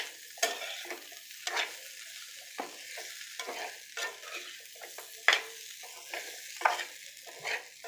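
Jackfruit seeds frying slowly in oil in a pan, a quiet ongoing sizzle with irregular scrapes and clinks of stirring, close up, no voices.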